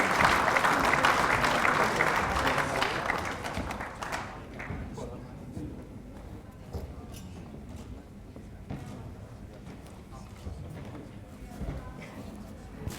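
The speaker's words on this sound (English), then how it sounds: "a round of applause for all of these players tonight" An audience at a football league medal presentation night applauds the players named to the Black Diamond Team of the Year, loud dense clapping that thins out after a few seconds into scattered claps.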